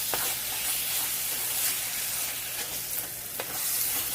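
Chicken and potatoes fry in a pan with a dense, steady sizzle and hiss throughout, broken by a few faint stirring scrapes, close and constant.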